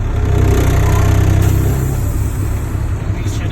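Class A tractor-trailer truck engine held in drive against the brakes during a tug test, a steady loud low diesel rumble that stays constant throughout, with no speech heard.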